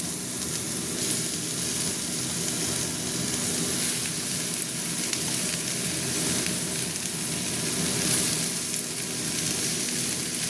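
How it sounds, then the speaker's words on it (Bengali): Fenugreek greens frying in a pan, an even, steady sizzle and hiss close up with soft stirring scrapes underneath and no talking throughout. "এবার আমি আস্তে আস্তে শাকগুলো দেবো।"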